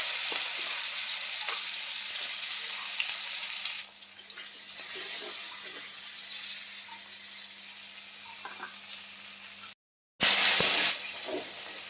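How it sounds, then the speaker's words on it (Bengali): Prawns fry in hot oil left over from frying fish, giving a steady, close sizzle that continues throughout, with a brief cut to silence near the end before the hiss returns. "ওই তেলেই আমি চিংড়িটা ভেজে নেব"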